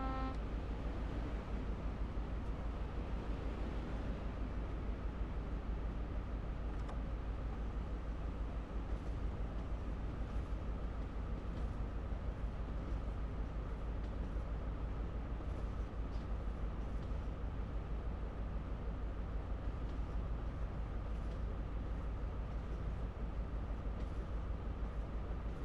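A Midland Pullman train runs near Truro in a 30 mph zone, heard from inside as a steady, low, continuous rumble with faint rail noise and no talking.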